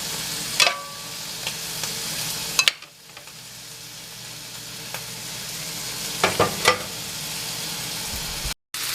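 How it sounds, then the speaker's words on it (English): Vegetables fry in a pan with a steady, soft sizzle, interrupted by occasional scraping clatters of stirring, followed by a brief quieter stretch before the sizzling and stirring resume. "So we're going to let these vegetables cook just a little."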